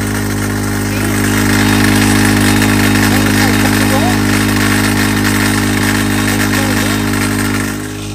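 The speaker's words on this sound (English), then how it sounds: "The motor works great, idles way down." A portable winch motor, used for directionally felling trees, idles low with a loud, steady mechanical drone and a constant hum that carries through the whole stretch, heard close.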